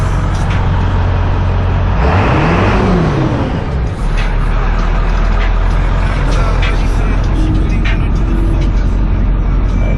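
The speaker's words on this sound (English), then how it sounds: "Man, that thing idles good. It's got single shot injectors in it." Ford 7.3 Powerstroke diesel truck with single shot injectors idling close by: a loud, steady low diesel rumble throughout, with a brief rising-and-falling whine near the start.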